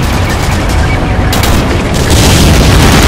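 House blowing up in the World War II shooter Medal of Honor Breakthrough, a loud sustained roaring blast with crackling debris and rumble that swells again near the end, very close and overwhelming.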